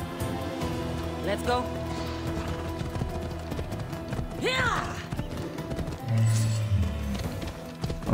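Horse hooves clop in a galloping rhythm amid Assassin's Creed Odyssey game music and effects, with people talking over the top throughout.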